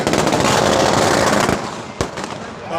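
Firecrackers set off to celebrate a PLD bank election win, a dense, loud burst of rapid crackling for a second and a half, then a lone sharp pop as it dies away.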